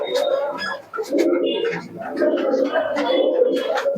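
Young teddy pigeons coo in repeated low, throaty bursts up close, mixed with scattered sharper clicks and bits of nearby human voice.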